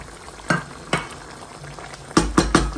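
Dry masala being stirred into chicken karahi in a pan, with several distinct scraping strokes of a spoon against the metal over a soft background sizzle, the last few coming in quick succession.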